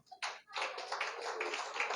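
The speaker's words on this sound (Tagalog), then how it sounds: "Palakpak." An audience bursts into applause at a church talk, following a short tap, then a dense, sustained round of many hands clapping near and loud for under two seconds.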